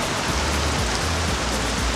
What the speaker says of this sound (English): So I'm just gonna hide under here and wait for the rain to stop.